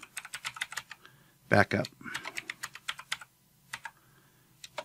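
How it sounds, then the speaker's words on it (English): Quick clattering keystrokes on a computer keyboard while editing the Windows 10 registry, close and crisp in short uneven runs with a few pauses, and someone speaking briefly between them. "type this exactly as I type it here"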